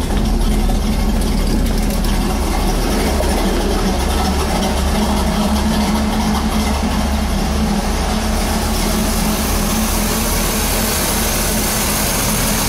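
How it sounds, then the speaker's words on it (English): A 1969 Chevrolet Nova SS idles steadily in neutral, its engine and exhaust a loud, even, close rumble with no knocking or ticking, running alone without talk for the whole stretch. "You can listen to the engine. There's no knocking, no ticking."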